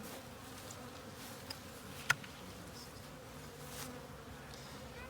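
Honeybees hum and buzz steadily during a live hive inspection, a continuous insect drone close by, with a couple of brief clicks or knocks from handling the hive equipment.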